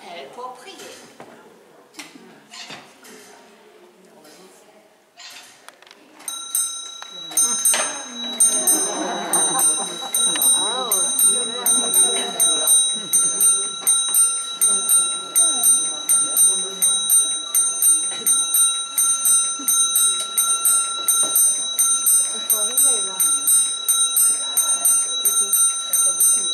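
Mechanical clock in a monastery tower turns its pinned roller to play a chiming melody of repeated bell tones, steady and close, after a stretch of clicking and rattling from the works; someone speaks over it.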